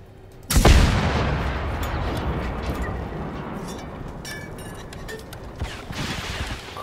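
A rocket launcher fires in the video game Generation Zero with one loud, sudden blast, then a long rumbling roar that slowly fades, with a few scattered bangs and thumps later on.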